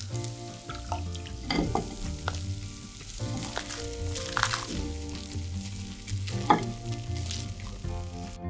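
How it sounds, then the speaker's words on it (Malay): Small bits of batter for ayam penyet fry in hot oil until crispy, with a steady sizzle broken by sharp scrapes and clacks of a utensil stirring through the pan. "Goreng sampai rangup dan angkat."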